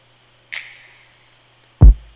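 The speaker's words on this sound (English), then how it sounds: "I also added this this lighter clicking sound" A light click sample layered into a drum arrangement within a music production, heard as one bright, crisp tick followed later by a deeper, punchier thump, both short and standing alone without any talk.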